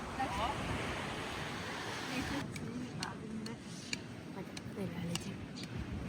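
Waves wash onto a beach while wind buffets the microphone. Surf rumbles steadily throughout with a few light ticks, and voices talk over it.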